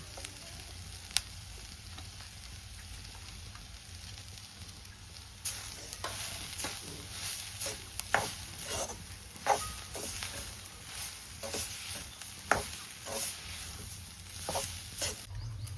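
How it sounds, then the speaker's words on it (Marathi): Onion and grated coconut roast in a pan over a wood-fired stove for Malvani chicken curry, a steady sizzle broken by repeated scraping stirs from the midpoint on, close and without talk. "त्याच्यात मी आता थोडा खोबरा घालते थोडा थोडा घालून भाजून घेते"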